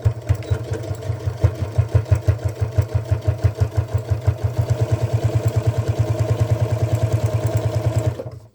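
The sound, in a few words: sewing machine stitching a tote bag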